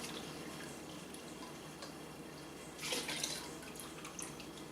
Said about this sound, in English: take a scoop of the liquor and pour it in with the sugar